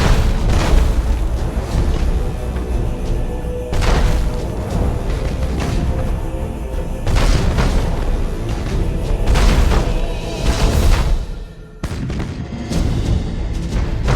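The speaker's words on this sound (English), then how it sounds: "Target destroyed, Captain. We blew it to pieces." Several heavy booming explosions from a ship being destroyed in the space strategy game Battlefleet Gothic Armada, loud rolling blasts layered over continuous rumbling battle noise, with a brief dip before further bursts.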